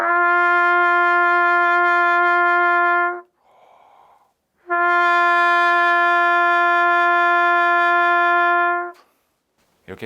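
A trumpet holds two long, steady, relaxed notes, each sustained for several seconds, with a soft breath heard in the gap between them; close, clear and loud with no talking.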